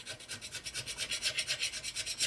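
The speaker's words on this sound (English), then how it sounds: "So this works really good for getting the sealer off of here." A scraper rasps back and forth over a 1977 Harley-Davidson Sportster Ironhead 1000cc engine case, pushing off old gasket sealer in quick, even strokes, close and fairly quiet with no voices.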